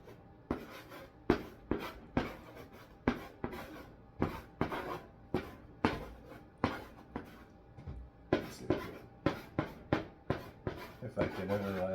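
Marker or chalk writing on a board during a goal-setting talk, a rapid series of scratchy strokes and taps in uneven rhythm, close and clear, continuing steadily across the whole stretch.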